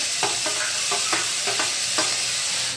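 Chopped onion and tomato fry in a pan with a steady, close sizzle, while a spoon scrapes through them in about five short, regular stirring strokes.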